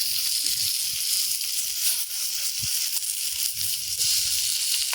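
Chicken pieces frying in oil on a clay roof tile at an outdoor village cookout, giving a steady, close, loud sizzle with occasional soft low knocks and no talking.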